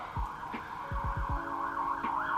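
An ambulance siren wails in the distance, a steady high tone under background noise, with a few low thumps nearby.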